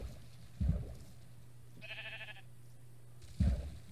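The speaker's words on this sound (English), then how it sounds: "Sheep gets in the way exactly at the wrong time." Minecraft sheep gives a single short wavering bleat in the middle of a game, moderately loud, with soft thuds before and after it and a low steady hum underneath.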